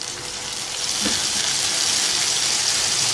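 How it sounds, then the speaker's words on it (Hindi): Ginger garlic paste and chopped tomatoes sauté in a pan for chana dal chicken, giving a loud, steady sizzling hiss that rises in the first second and then holds evenly. "इनको हल्का सा सौते करेंगे।"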